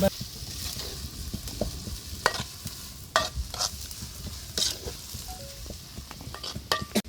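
Onions and curry leaves sauté in a pan for a fish curry, giving a soft sizzle broken by repeated stirring scrapes and spoon clicks. The sounds are close and fairly quiet, with no voice.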